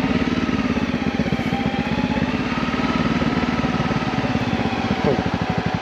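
A motorcycle engine putters steadily at low speed while riding through a durian orchard in Balik Pulau, a close, even, rhythmic thrum throughout with a voice talking over it.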